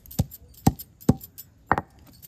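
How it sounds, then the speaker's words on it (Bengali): Leaves crushed by hand for a homemade hair remedy: four sharp, close pounding strikes spaced roughly half a second apart, the last one doubled, with quiet gaps between. "পাতাগুলো যখন থেঁতো করা হচ্ছে দেখুন কতটা কম লাগছে।"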